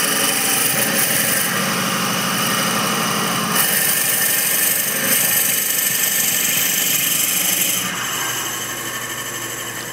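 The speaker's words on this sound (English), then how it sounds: "The lathe doesn't have to be spinning very fast." A steady whir of a wood lathe spinning slowly with a high-pitched drilling grind as a birdhouse ornament is drilled, loud and continuous, easing slightly toward the end.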